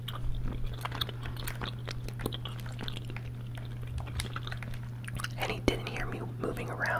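Soft, wet gum chewing sits close to the mic in quick irregular smacks and clicks over a steady low hum, faint and intimate, with occasional light controller taps during a Fortnite session on PC.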